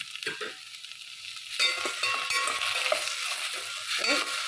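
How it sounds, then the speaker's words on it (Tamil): Onions sautéing in a pan for a Chettinad-style okra and field bean tamarind dish, giving a steady close sizzle with stirring scrapes and occasional utensil clinks throughout, with no talk. "இந்த வெங்காயத்தோடய சேர்த்து நல்லா வதக்கிக்கிறேன் அது நல்லா வதங்கட்டும்"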